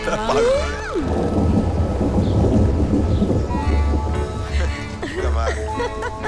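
Steady rain with deep rumbling thunder throughout, while voices speak over the storm in a Hindi-dubbed Bollywood film.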